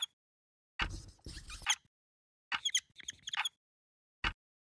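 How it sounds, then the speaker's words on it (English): Marker squeaking on a whiteboard in short bursts: a few scratchy, squealing strokes in quick clusters separated by silent gaps, close and fairly loud. "I'm hearing this marker squeak on the whiteboard"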